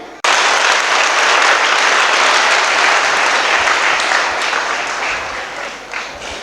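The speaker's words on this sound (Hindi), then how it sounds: "बोलो इस गवाही के लिए आप कितनी तालियां बजाएंगे?" A large congregation at a Hindi prayer meeting in Naigaon breaks into loud, sustained applause, dense clapping that starts abruptly and holds steady for about six seconds before tapering slightly.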